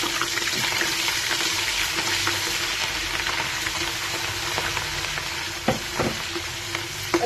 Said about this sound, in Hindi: अभी मैं इसमें जो है अदरक लहसुन पेस्ट डालूंगी।